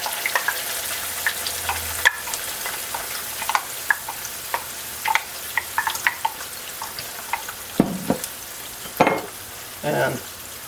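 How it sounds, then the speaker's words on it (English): Tomato puree cooking in mustard oil in a pan, with a soft continuous sizzle broken by scattered pops and spoon scrapes, close and alone. "So then we add our cup of tomato puree"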